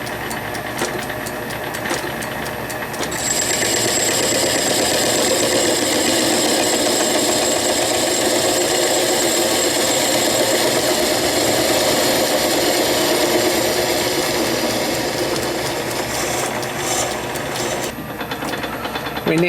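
Steady scraping and rasping of a cutting tool facing off a metal workpiece on a foot-powered treadle lathe, running continuously at close range, with a faint rhythmic drive underneath and no voices.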